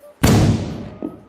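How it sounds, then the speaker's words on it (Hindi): A firecracker bursts during Diwali celebrations, one sudden loud bang followed by a decaying, crackling tail, with a smaller pop near the end. "ये पटाखे कौन बजा रहा है?"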